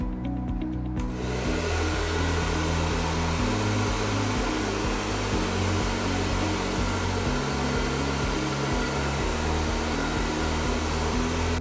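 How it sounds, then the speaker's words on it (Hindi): A hair dryer blows heat onto a non-surgical hair replacement system, a steady, loud whooshing drone that runs without a break and with no talking. "ड्रायर जो है वो सिर्फ नीचे से हेयर लाइन की तरफ आप हीट दोगे"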